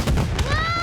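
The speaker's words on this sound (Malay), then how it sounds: "Ada letupan yang kuat tadi." Loud fireworks going off in a children's cartoon: a booming blast with a crackling burst, followed by a rising whistling tone, all close and full.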